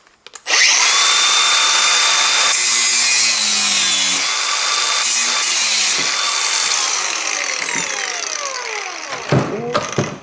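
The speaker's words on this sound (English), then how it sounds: "I can cut these rivets with my this angle driver" Angle grinder cutting through steel rivets on a washing machine's steel cover, a loud continuous high whine with a wavering pitch, briefly dipping between cuts, then spinning down with a few metallic clanks at the end.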